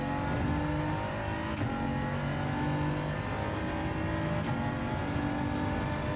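A BMW race car engine in a racing video game, roaring steadily at high revs without letup over several seconds, loud and close, with faint clicks as gears change and no voices.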